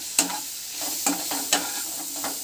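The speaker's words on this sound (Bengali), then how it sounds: "1 টিস্পুন মাঞ্চুরিয়ান মশলা দিয়ে সব কিছুকে আবারও ভালো করে ভেজে নিতে" Fish eggs for a Manchurian dish are stir-fried in a pan with turmeric, salt and Manchurian spice: a steady sizzle with four crisp scraping strokes of a spatula, spaced evenly and close up.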